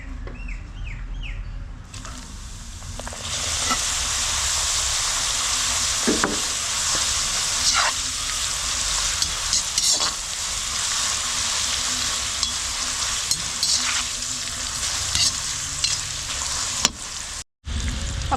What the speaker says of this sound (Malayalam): എണ്ണ ചൂടായിട്ടുണ്ട് നമുക്കിനി പപ്പടം ഒന്ന് വറുത്തെടുക്കാം